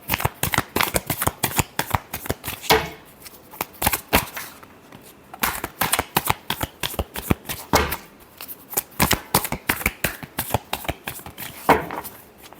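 Tarot cards shuffled in quick riffling bursts, a dense run of sharp flicks and snaps with short pauses between rounds, close and fairly loud with no voices.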